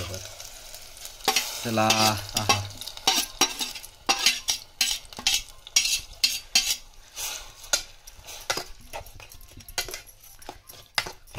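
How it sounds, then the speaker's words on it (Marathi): A spoon stirring and scraping a sizzling mixture of jaggery, cucumber and ghee in a pot in a Konkan kitchen, with repeated metallic clinks and scrapes over a steady sizzle and a brief spoken word. "काकडी आणि हे सगळं मिश्रण आहे ते एकजीव करून टाकायचंय ना"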